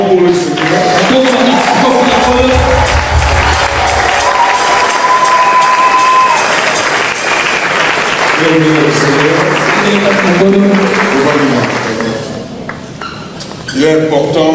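A church congregation at a Sunday service cheers and applauds loudly, sustained clapping and shouting voices mixed with musical tones, fading toward the end as talk comes in.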